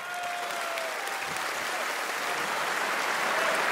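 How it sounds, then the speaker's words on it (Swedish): Audience at a Swedish sports awards gala applauds the team award winners, a dense, steady wash of clapping that holds strong and swells slightly near the end. "En applåd för vinnarna!"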